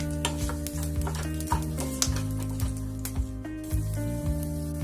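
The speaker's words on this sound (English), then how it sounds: "Saute well." Red chillies, chana dal and urad dal sauté in a pan with soft sizzling and repeated scraping and stirring clinks of a spoon, over a steady low hum.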